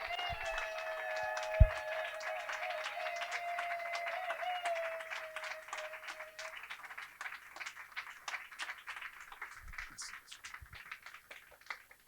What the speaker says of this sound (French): Je vous prie de vous lever sous nos acclamations.